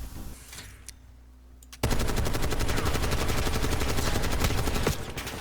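Rapid automatic gunfire in a Call of Duty: Black Ops match bursts in loud after a quieter opening and rattles on continuously as dense sustained fire until near the end.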